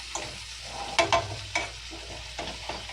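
Seasoned onions fry in a pan beside a steak dinner, with a low sizzle punctuated by several distinct spatula scrapes and knocks as they are moved around.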